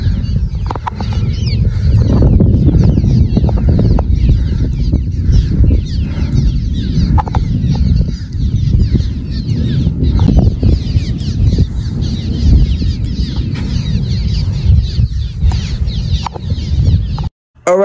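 Chickens or similar fowl squawk and cluck loudly and continuously outdoors during a Texas supercell storm chase, calls overlapping over a steady rumble of wind, with no talk.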